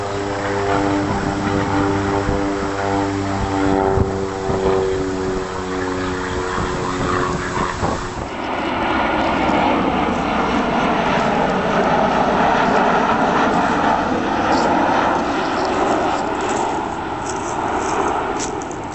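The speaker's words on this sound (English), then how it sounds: "some very, very small planes just go over slightly to the south of here" Very small propeller planes pass overhead slightly to the south, near the Kulaluk lease flightpath, a steady droning engine and propeller hum that shifts in pitch as they go by, with no one speaking.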